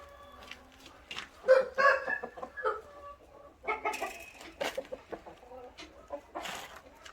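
On a farm in Subang, chickens cluck in short bursts while a rooster crows nearby, mixed with scattered farmyard bird calls.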